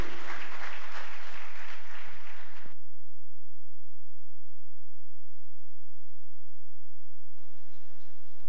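Church congregation applauding during a Sunday sermon service, a dense burst of clapping for nearly three seconds that stops abruptly, then near-silent room tone before faint clapping or stirring resumes at the end.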